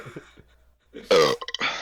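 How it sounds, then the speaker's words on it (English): A single loud burp bursts out after a brief pause in quiet talk, with short hiccup-like catches at its tail and nothing else around it. "That was a good burp."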